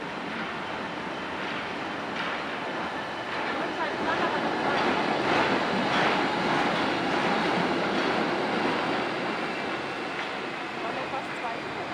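The new Wuppertal Schwebebahn suspension railway runs in service, giving a steady, broad rumbling rush that swells slightly in the middle and never stops for the whole stretch.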